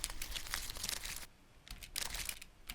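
Crunching dry leaves used as a sound sample, with dense crinkling bursts in two loud stretches split by a brief quieter gap, close and alone with no talk.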